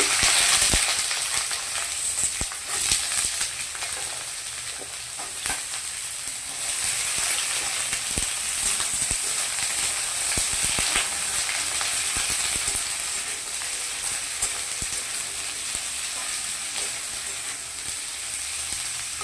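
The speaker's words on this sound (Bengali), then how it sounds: "প্রথমে আমি সবজিগুলোকে ভেজে নিচ্ছি" Chopped vegetables, bottle gourd leaf shoots, fry in a hot pan with a steady, close, crackling sizzle that lasts throughout, with no voices.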